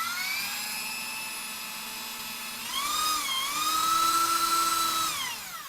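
A power drill fitted with an eccentric drill bit whines steadily as it bores into wood, its pitch rising midway as the load changes, loud and close with no talk.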